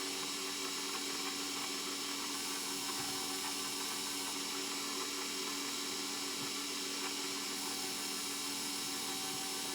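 An electric mixer runs steadily while flour is worked into pound cake batter, giving a continuous whirring motor hum with a constant pitch throughout, at moderate level with no talking.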